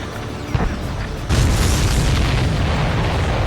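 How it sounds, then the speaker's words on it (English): A supply ship blows up in the Ace Combat 7 flight combat game: a sudden deep boom swells into a loud, sustained roaring rumble that keeps going, with no voices over it. "Did you see that explosion? Looks like that's one of them down."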